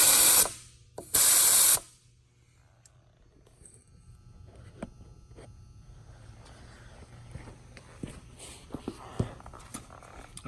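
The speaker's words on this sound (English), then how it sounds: "this piece slides back and forth, releasing the air out of the tire." An ARB tire deflator fitted to a 4WD tire's valve stem lets out two loud, close bursts of hissing air, a longer one and then a shorter one. Faint handling noises follow in a quiet setting.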